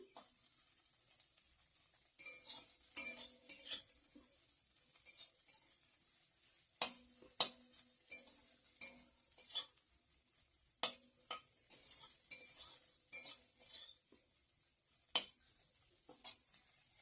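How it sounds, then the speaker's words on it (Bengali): Neem leaves frying in a pan are stirred with a utensil, giving a soft continuous sizzle broken by repeated sharp metallic scrapes and clinks against the pan, close and fairly quiet, with no talking. "নিম পাতা ভাজাটা এখন করে নিচ্ছি"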